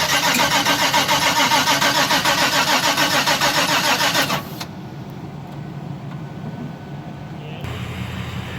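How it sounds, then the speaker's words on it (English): A truck engine cranks and catches in snowy weather, a loud rhythmic starter churn for about four seconds that drops to a lower, rougher idle, then shifts tone near the end, close up with no talk. "go pick up a truck that we don't need"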